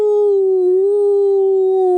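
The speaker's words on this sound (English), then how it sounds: "That's the queerest howl I ever heard" Eerie howl sound effect in an audiobook mystery: a loud, sustained, wavering tonal howl with a slight pitch dip, continuous and alone without speech.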